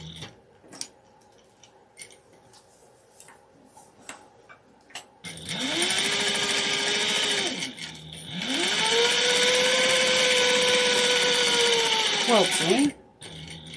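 A sewing machine quilting with its motor whirring in two long, steady runs separated by a brief pause, its pitch rising and falling as it speeds up and slows, ending with a few quick stitch bursts before stopping.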